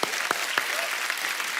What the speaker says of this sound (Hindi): पहले तो इस बात के लिए तालियां होनी चाहिए।